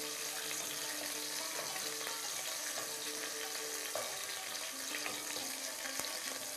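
Food browns in a hot pan with a steady, fairly quiet sizzle and hiss lasting throughout, with a few light clicks of utensils and no speech.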